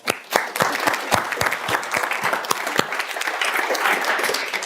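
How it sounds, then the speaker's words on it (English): A studio audience gives a round of applause at the close of an episode on decluttering and organization, a dense, steady burst of many hands clapping that starts sharply and holds at an even level with no voices. "Give him a round of applause"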